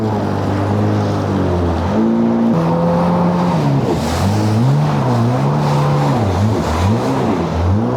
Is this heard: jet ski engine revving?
yes